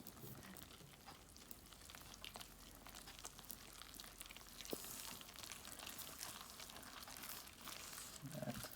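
A hand squelching and kneading a wet sourdough bread dough, giving soft, irregular sticky crackles and slaps that continue steadily at close range without speech.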